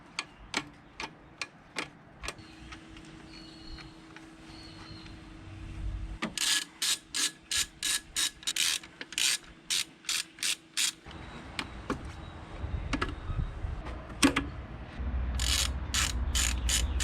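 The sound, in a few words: ratchet undoing downpipe bolts on car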